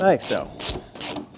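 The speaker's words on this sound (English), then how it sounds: "tighten the nuts that hold the bracket on" Nuts being tightened onto carriage bolts that hold a metal snowboard bracket give three quick, close ratcheting, grinding strokes in an even rhythm, with a brief spoken remark at the start.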